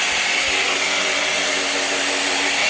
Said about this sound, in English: So here we are now, power scrubbing that seat.